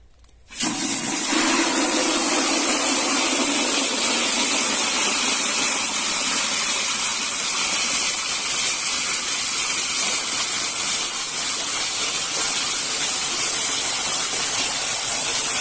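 A strong jet of water from a garden hose hisses steadily into a container beside a tomato plot, starting abruptly and continuing as a loud, unbroken rushing spray close by.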